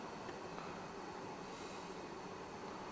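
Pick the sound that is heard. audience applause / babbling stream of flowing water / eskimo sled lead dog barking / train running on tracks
train running on tracks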